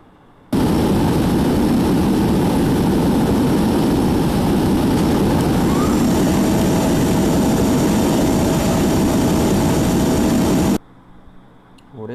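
Steady, loud aircraft engine roar from the Extreme Landings flight simulator game, a continuous broadband drone holding for about ten seconds before cutting off abruptly to near silence.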